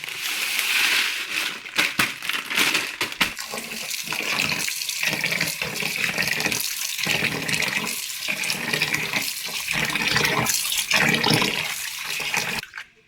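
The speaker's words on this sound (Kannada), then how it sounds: "ನೋಡಿ ಇವಾಗ ಸಾಮೆನ ತೊಳಿತಾ ಇದ್ದೀನಿ" Continuous splashing and swishing of water as millet grains are rinsed and stirred by hand, with rhythmic pulses of agitation, close and fairly loud throughout.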